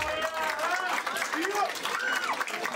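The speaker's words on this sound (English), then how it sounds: "Give him a round of applause." A crowd at the Oddball Brawl fight event applauds the referee, with steady clapping and crowd noise under an announcer's voice.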